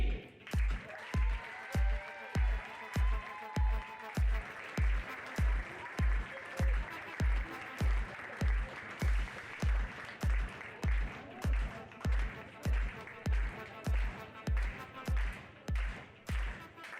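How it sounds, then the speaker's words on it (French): An audience at a pony-games award ceremony claps for the medal winners, with steady rhythmic clapping in time throughout and a faint tonal background underneath. "je vous demanderai d'applaudir ceux qui vont monter sur les marches"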